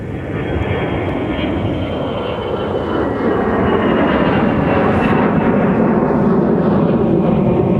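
Southwest airliner on short final at MSP airport, a steady broad jet engine roar that builds slightly and holds loud and close throughout, with no talk.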